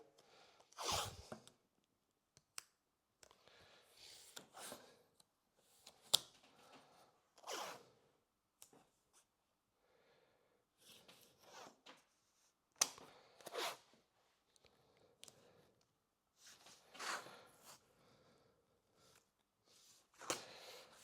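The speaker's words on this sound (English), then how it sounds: "Just ripping off as I go." Masking tape, 1.5 inch wide, torn off the roll in repeated bursts while taping up kitchen cabinet doors for spray painting; sharp rasping rips with quiet gaps, close and moderately loud, no talking.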